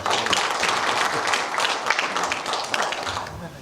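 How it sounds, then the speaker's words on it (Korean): Board meeting attendees of the Korean Institute of Landscape Architecture applaud to approve an audit report, a dense, steady wash of many hands clapping at close range for several seconds, with speech-like murmur woven through it. "의견이 없으시면 박수로 통과시키도록 하겠습니다"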